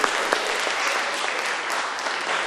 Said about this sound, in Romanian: Vă rog să-l aplaudăm încă o dată.